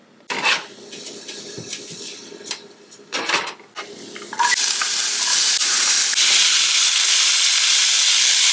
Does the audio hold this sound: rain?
no